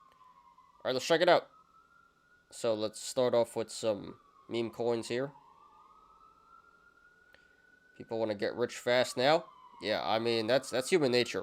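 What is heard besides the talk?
police sirens passing outside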